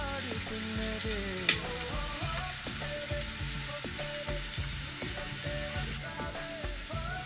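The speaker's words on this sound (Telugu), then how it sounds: "కొద్దిగా ఫ్రై అవనిద్దాం బాగా." Onions for tamarind chutney fry in a pan with a steady sizzle, broken by repeated scrapes and taps of stirring, close but fairly quiet, with no one talking.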